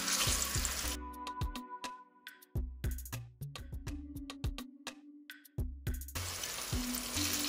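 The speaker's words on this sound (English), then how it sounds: "my oil is hot. And I've got just a few rosemary in my oil." Rosemary sprigs fry in hot oil, giving a close, steady sizzling hiss at the start and end with a run of sharp clicks and clatters in the middle, and no talking.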